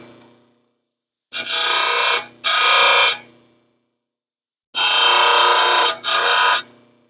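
A hand ratchet tightens a bolt on a 1920 Nash engine during a rebuild. Four close, loud bursts of rapid clicking come in two pairs separated by a pause.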